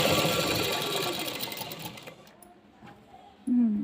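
A domestic sewing machine runs steadily while stitching piping onto a blouse neckline, its busy whir slowing and fading midway, then a short loud burst of stitching returns near the end.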